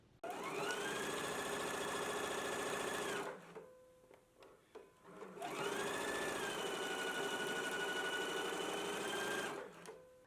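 A sewing machine stitches a skirt casing in two long steady runs of whirring motor hum, separated by a short pause with handling clicks and fabric shuffles, close and even in loudness.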